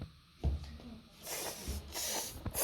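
A child imitates a snake, letting out several breathy, drawn-out hisses in short bursts with brief pauses between them.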